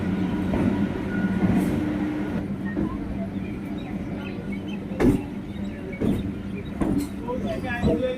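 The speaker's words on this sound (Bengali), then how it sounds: "আমরাও শিয়ালদহ থেকে 7:42-এর ক্যানিং লোকাল ধরে নিলাম।" The 7:42 Canning local train from Sealdah rumbles along with a steady rattling roar, sharp clanks and jolts marking the later seconds, and faint voices carry inside the carriage.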